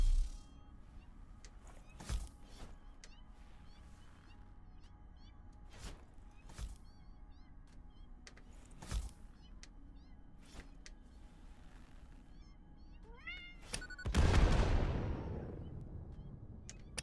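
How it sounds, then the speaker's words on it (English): Cats in the video game Satisfactory give several short meows scattered through the scene, with sharp booming impacts recurring every couple of seconds and a loud burst of noise near the end. "I still hear more kitties, so."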